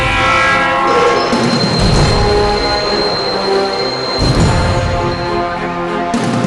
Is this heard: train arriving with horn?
yes